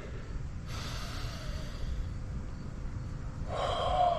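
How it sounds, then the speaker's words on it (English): After a long bout of burpees, a person breathes heavily close to the mic: a sustained rough exhale and then a sharper gasping inhale, with no speech. "Let me just calm my breathing down a little bit."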